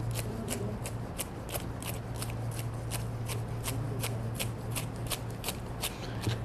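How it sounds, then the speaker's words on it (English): A kitchen knife cuts lettuce into thin chiffonade on a board, rapid evenly spaced chopping taps in a steady fast rhythm over a constant low hum. "Chiffonade is real thin lettuce cut, and it goes like that."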